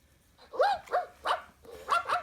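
A Hasbro Joy for All robotic pup toy gives a run of five short, synthetic yipping barks in an uneven rhythm, close and fairly soft, with no talking.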